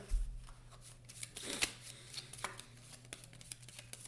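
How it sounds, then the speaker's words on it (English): A deck of playing cards shuffled during a Marvel Legendary deck-building card game, a close riffling flutter of card edges that peaks sharply in the middle of the burst, then trails off into scattered lighter card taps. "I'm going to have to shuffle my deck in order to reveal the top"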